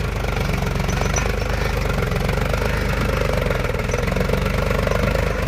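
A Powertrac Euro 50 tractor drives a rotavator through hard, dry soil, its diesel engine a loud, close, steady rumble with a fast chugging pulse throughout and no voices.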